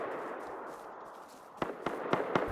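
Rocket explosions from the Rust video game, heard as four or five sharp distant blasts in quick succession over a steady background hiss during the second half.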